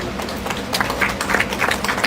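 Audience at a Vacation Bible School gathering applauding a child named Domingo: dense, steady crowd clapping throughout, moderately loud and fairly close.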